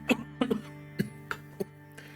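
A handful of short, sharp coughs from a character in the video game Suzerain, in an otherwise quiet room, irregularly spaced, the first few bunched close together and the last ones fainter.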